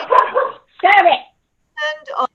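A dog barks loudly and close, with three or four sharp yips and barks in quick bursts separated by short silences, during a school board meeting.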